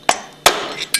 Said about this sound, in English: tap it out with a hammer